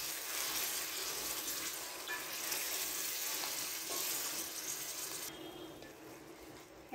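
Beef sizzles and crackles loudly in a hot karahi, a dense continuous hiss that eases slightly toward the end.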